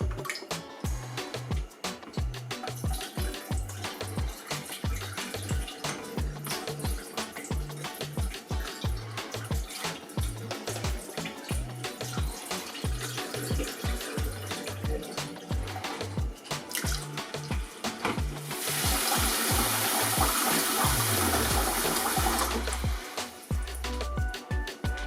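Running tap water rinses raw chicken pieces in a bowl for jerk chicken, a steady splashing stream with pulsing low thuds throughout that swells into a louder, fuller rush near the end.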